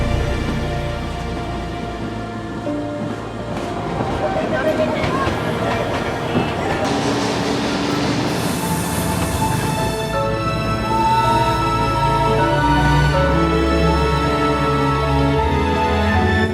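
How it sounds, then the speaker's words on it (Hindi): The Darjeeling toy train runs through town streets, a steady rumbling roll with rhythmic rail clatter and a brief hiss of air, loud and continuous throughout, with a crowd murmuring and voices in the background. "ये टॉय ट्रेन पूरे दार्जिलिंग की गलियों से निकलती है"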